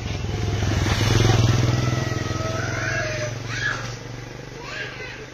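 A motorcycle engine idles and rumbles close by with a steady low throb, some clatter and faint voices in the background.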